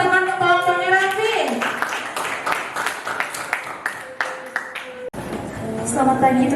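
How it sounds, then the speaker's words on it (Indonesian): A classroom of students claps for a student group, a short burst of scattered handclaps that thins out under a teacher's speech and children's voices. "Tepuk tangan untuk kelompoknya lagi."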